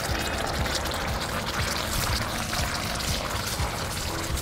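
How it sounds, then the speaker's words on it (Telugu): Water pours into a pan for a creamy soup, a continuous dense splashing rush held close and steady throughout, with no talk. "వాటర్ పోసుకొని"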